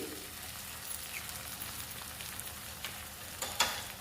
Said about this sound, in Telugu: కప్పు రైస్కి టూ ఎగ్స్ వేస్తున్నానండి